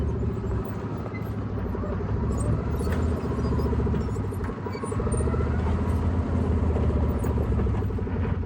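A vehicle pulling a trailer up beside a pond island gives a low, steady engine rumble at moderate distance, continuous and unbroken, with no talk over it.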